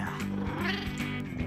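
Cartoonish cat meows from the video game No More Heroes 2, a rapid series of short tonal mews over busy game music and effects.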